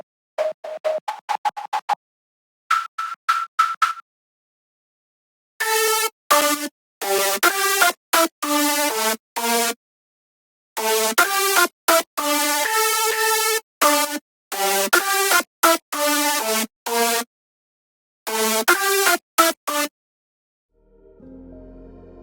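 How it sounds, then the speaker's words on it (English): A whistle-like synth support lead from a future bounce track in FL Studio plays short, bright, clipped stabs in choppy rhythmic bursts with gaps, loud and dry, ending in a low soft tail. "I also used a support lead here which sounds like a whistle."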